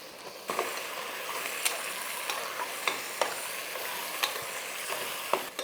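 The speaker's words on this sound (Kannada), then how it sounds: "ಟೊಮೊಟೊ ಸ್ವಲ್ಪ ಚೆನ್ನಾಗಿ ನೀಟಾಗಿ ಫ್ರೈ ಆಗಲಿ" Tomatoes frying in a pot for sambar, a loud continuous sizzle broken by regular scraping stirs with a utensil, no voices.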